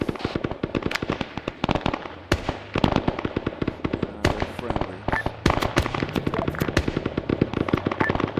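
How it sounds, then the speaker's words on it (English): Rapid gunfire in a Vietnam war video game mission, dense bursts of sharp automatic shots crackling continuously at close and middle distance, with voices talking underneath. "There's a lot of shooting going on."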